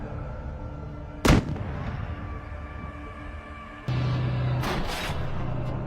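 A tank cannon fires point blank at close range, one sharp loud blast followed by a rumbling tail, and a steady engine drone picks up after the shot.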